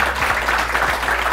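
An audience at an Indonesian millennial talk-show event with the CEO of Pelindo II claps, a brief, steady burst of applause that fills the room without any voices on top.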